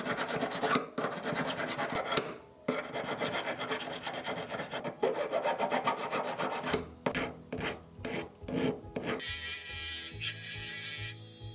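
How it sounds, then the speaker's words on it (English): Steady back-and-forth rasping of a hand file working excess welded metal off a jewelry ring band, close and continuous with brief pauses between strokes, no talking. "you're just gonna file it away"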